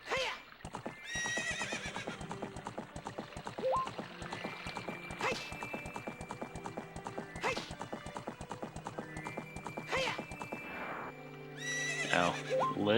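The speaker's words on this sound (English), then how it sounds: "So in this, Epona doesn't really like jump off little cliffs and stuff" Epona, the horse in the video game The Legend of Zelda: Ocarina of Time, gallops with steady rhythmic clip-clop hoofbeats and lets out several loud whinnies and neighs over game music.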